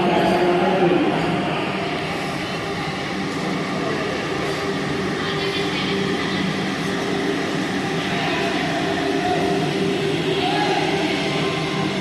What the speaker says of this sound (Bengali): আর এক্ষুনি একটা বন্দে ভারত ট্রেন আসছে